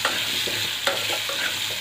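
Potatoes with a little turmeric and salt fry over medium-high heat in a pan, a constant close sizzle with a few scraping strokes of a spatula as they are stirred.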